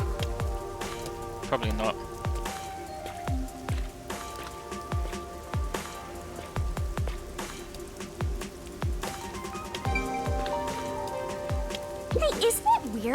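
Constant rainfall in the video game Master Detective Archives: Rain Code, a steady patter running under intermittent talking and a soft tonal background.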